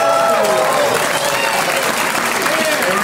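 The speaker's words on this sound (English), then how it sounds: "give yourselves a round of applause." A live comedy podcast audience applauds in a dense, steady wash of clapping that fills the whole stretch, with a voice talking over it.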